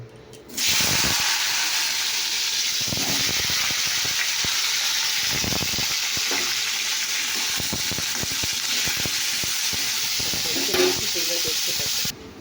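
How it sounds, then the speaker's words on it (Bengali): Washed potatoes dropped into hot oil in a pan, a loud steady hiss and sizzle starting abruptly and continuing for about eleven seconds with occasional stirring clicks before cutting off. "তো তেলটা গরম হয়ে গেছে, এবার আলুটা ধুয়ে এবার একটু কষে নেব"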